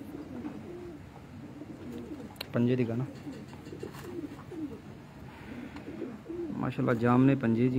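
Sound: pigeons cooing on a rooftop loft

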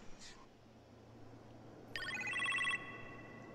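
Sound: phone ringing in video game Marvel's Iron Man VR

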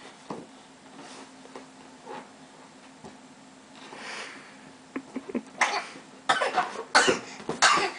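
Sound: cough

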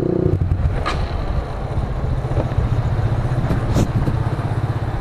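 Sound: Sonic 150R motorcycle engine with BRT Juken 5 racing ECU

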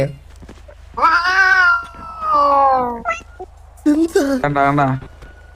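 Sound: cat meowing

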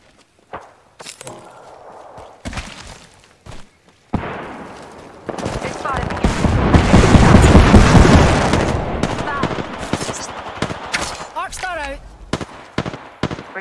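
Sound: gunfire in a video game

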